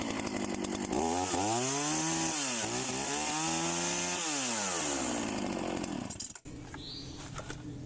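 A cheap chainsaw roars to life and runs at high revs, its pitch swooping up and down as the throttle is worked, loud and close, then cuts off near the end.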